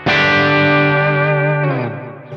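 Electric guitar with a beefy humbucker tone through a Kemper pitch chorus effect, a single sustained chord ringing loud and close with shimmering doubled pitch, fading after two seconds; no talking.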